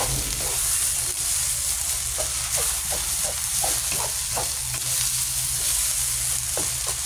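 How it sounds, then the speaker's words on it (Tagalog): Rice and egg sizzle in a hot pan while being stir-fried for breakfast, a steady bright frying hiss with repeated scraping and tossing clicks from the spatula, close up with no talking. "Tingnan tayo magsangag."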